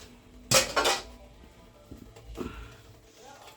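A lid clanks down onto a cooking pot with a sharp metallic rattle, followed by a couple of softer knocks and shuffles nearby.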